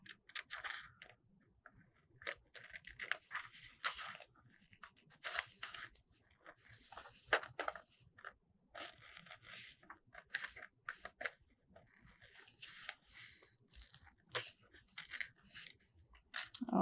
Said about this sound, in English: Got my safety scissors.